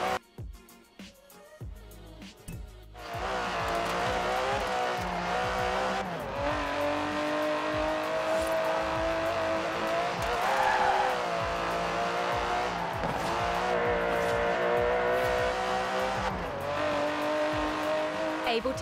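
The 5.2-litre twin-turbo V12 of an Aston Martin DB11 in Forza Horizon 4 racing, rising from a quiet start into a loud, sustained engine roar with repeated gear-shift dips and occasional tire squeal, a voice talking over it.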